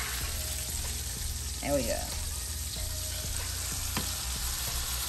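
Beef pot roast browning in a pot on a stovetop, a steady broadband sizzle running throughout with brief clinks and a short voice over it.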